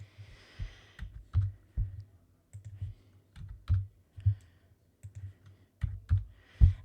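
Mouse clicks and computer keyboard typing while margins are adjusted in Google Docs: sharp, close, irregular taps and clicks with short pauses between them, no voices.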